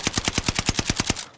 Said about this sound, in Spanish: Y le están disparando de la derecha